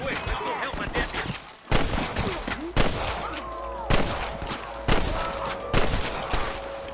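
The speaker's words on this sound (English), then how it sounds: "I can hear more gunshots." Bursts of rapid gunfire in Red Dead Redemption crack out in repeated volleys amid music and game sounds, with a voice briefly heard in the mix.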